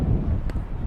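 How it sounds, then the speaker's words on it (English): Wind gust at an outdoor baseball game, a brief, loud rush of buffeting noise against the microphone, rumbling low and uneven with no talk. "Wind gust kicking up."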